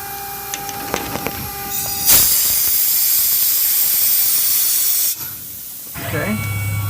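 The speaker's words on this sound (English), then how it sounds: "Get my air gun here." Compressed air gun blasting chips off an AR-15 gas block workpiece on a Tormach PCNC 1100 mill: a loud, steady hiss of about three seconds starts abruptly and cuts off sharply, framed by quieter machine and shop noise.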